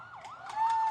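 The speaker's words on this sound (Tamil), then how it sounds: "ஆம்புலன்ஸ் அப்படியே கொஞ்சம் வழி விடுங்க." An ambulance siren wailing as it moves through a crowd at an outdoor political rally, a brief rising and falling electronic tone, fairly close and clear.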